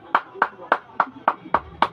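An audience in a classroom teaching demonstration claps for Group 5, seven spaced, fairly loud individual claps in a steady rhythm.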